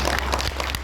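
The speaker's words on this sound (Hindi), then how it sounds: "जोरदार तालियां आपको।" Audience applause at a poetry recital, a short burst of dense clapping from a crowd, close and steady throughout.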